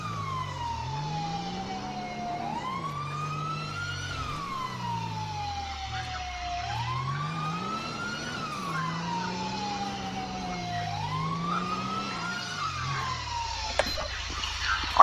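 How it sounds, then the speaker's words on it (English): A police siren in GTA V with the LSPDFR mod wails up and down in slow, repeating sweeps, loud and close over a low engine rumble, cutting off near the end. "our automatic siren cutout, we didn't even shut off our siren on our own"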